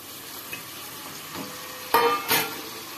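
Garlic ginger paste frying in a pan on low heat for a Tamil-style mutton curry, with a steady soft sizzle. Two brighter bursts of crackle come near the end as it is stirred, and there is no talk.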